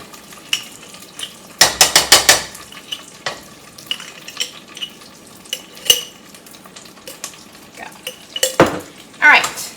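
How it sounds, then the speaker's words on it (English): Refried beans sizzle steadily in a pan while a utensil scrapes and clatters against it in irregular bursts. "We're hearing the sizzle. Frying them beans. Refrying them beans."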